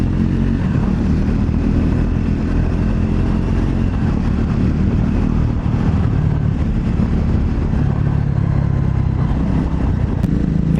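A scrambler motorcycle accelerates on a ride to overtake another vehicle, a steady, loud engine drone heavily mixed with wind buffeting on the microphone and lasting throughout.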